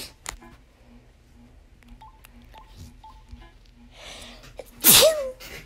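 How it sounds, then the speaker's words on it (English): A single loud, sharp sneeze bursts out near the end, after a stretch of quiet clicks and soft game-like blips. "I sneezed."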